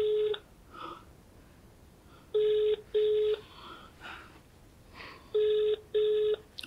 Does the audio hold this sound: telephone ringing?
yes